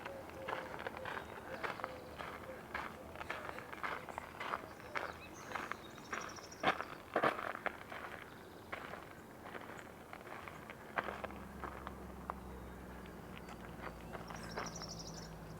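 Footsteps crunch at an irregular walking pace on rough marsh ground, with faint birdsong and a low airplane drone joining toward the end.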